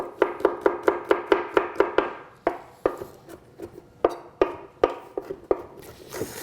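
A knife finely chops three garlic cloves on a board, quick even rhythmic taps in a fast run that turns slower and more spaced out, close and crisp with no talking.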